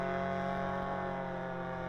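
A boat engine near misty sea cliffs drones with a steady mechanical hum, even in level and held throughout, fairly faint and unaccompanied by talk.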